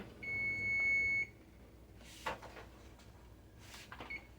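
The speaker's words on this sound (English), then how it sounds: "Our timer is going off." A kitchen timer gives one sustained, clear electronic beep of about a second, followed by quiet kitchen clatter and a couple of soft knocks, with a faint short beep near the end.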